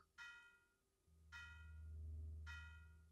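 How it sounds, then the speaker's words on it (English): A clock bell in the video game Master Enodio's Tower strikes three times at a steady, slow pace, with each ring fading out. A low rumbling drone sits underneath. "The bell of the clock."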